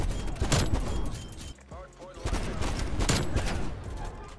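Rapid automatic gunfire from Call of Duty: Cold War, with loud bursts of shots spread across most of the clip, a brief lull in the middle, and a voice talking alongside.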